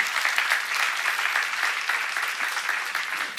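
Church congregation applauding during a sermon at a Korean church seminar, a dense steady clapping wash that continues for several seconds and swells at the very end.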